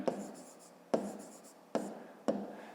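Pen writing by hand on paper while working a fifth-grade math exercise, four short close scratchy strokes at uneven intervals, each fading quickly into a quiet room.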